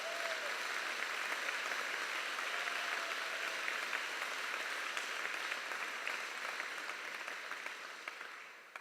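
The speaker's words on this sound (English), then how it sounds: "Let's give them a round of applause." An audience at a public meeting about a road proposal claps in sustained applause, a steady wash of many hands that tapers slightly toward the end, with no voices over it.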